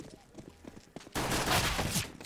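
A burst of rapid gunfire erupts in a Counter-Strike style shooter match, loud and dense after a second of quieter footsteps and game noise, with a brief voice heard beforehand.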